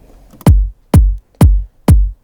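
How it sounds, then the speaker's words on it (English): Four deep, booming kick drum hits land at an even pace, each with a punchy attack and a short low tail, with nothing else playing. "We have this kick drum."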